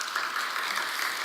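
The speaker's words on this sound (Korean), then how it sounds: "자, 한번 박수할까요?" A church congregation at a New Year revival service claps together in a brief, steady burst of applause with no voices over it.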